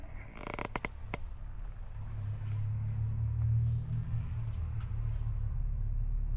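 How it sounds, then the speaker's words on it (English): A Ducati Mike Hailwood Replica motorcycle coming to life, a few sharp clicks followed by a low, steady engine rumble that builds and holds, moderately close. "Very excited to hear this beautiful bike"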